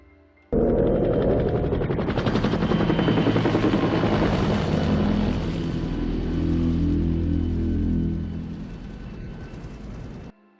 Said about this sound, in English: the roaring sound of helicopter engines on screen